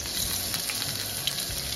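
Steady hiss and crackle of pork belly frying in hot oil, with occasional sharper pops over a constant sizzle; no talking.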